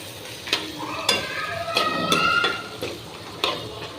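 Grated raw mango for mango pulihora frying in oil in a pan, with a steady sizzle under several sharp spoon clanks and scrapes against the metal as it is stirred.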